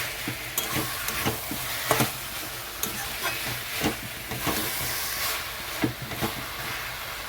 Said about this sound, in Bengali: এখানে দিয়ে দিচ্ছি চিকেন। ভালো করে কষাতে হবে।